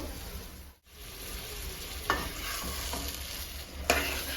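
Mushroom masala with water added being stirred in a pan, a steady close sizzle and bubbling with a few sharp scrapes of the spoon against the pan.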